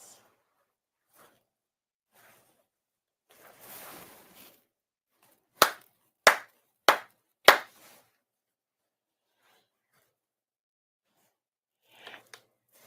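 Four sharp ceremonial hand claps at a Konkō ceremony, evenly spaced and crisp in a quiet hall, with faint rustling before and a couple of soft sounds near the end.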